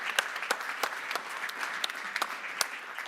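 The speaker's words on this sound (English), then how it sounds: "Quick round of applause for Ian." A summit audience at an electric-vehicle event gives a brief round of applause, with steady, moderately distant clapping from a modest crowd across a few seconds.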